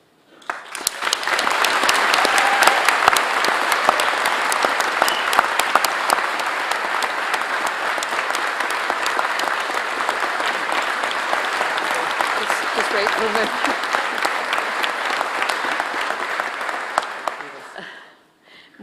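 A hall full of people at a University of St Andrews graduation ceremony bursts into loud, continuous applause after an honorary music degree is conferred, holding steady for several seconds before cutting off, with a voice speaking briefly.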